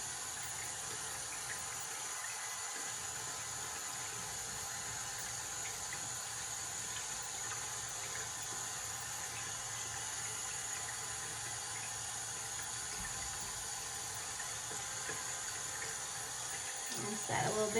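A bathroom tap runs in a steady, fairly quiet stream while a face is rinsed, with a brief break partway and a small clatter near the end.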